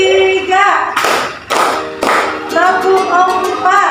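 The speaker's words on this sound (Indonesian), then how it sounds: "Tepuk 1, tepuk 2, tepuk 3," In a classroom game, students clap in counted rounds of sharp, loud claps that come in two or three bursts, while a voice calls out the counts over the clapping.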